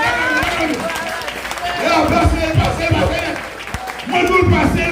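Church congregation applauding and acclaiming during worship, sustained clapping and crowd noise with voices calling out, swelling louder at intervals.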